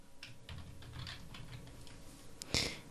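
Quiet keystrokes on a computer keyboard as a name is typed, a short irregular patter of clicks ending with a firmer tap, like the Enter key.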